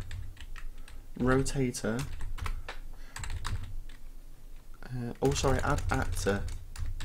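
Computer keyboard typing, a quick run of light clicks, set between stretches of someone speaking close to the microphone while he works in Unreal Engine 4.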